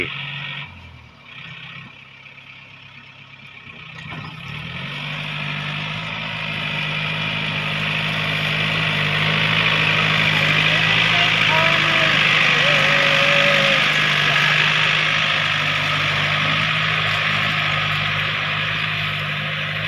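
A tractor engine ploughing a rice paddy drones steadily throughout, rising slightly in loudness as it works, with a few faint chirps over the rumble and no speech.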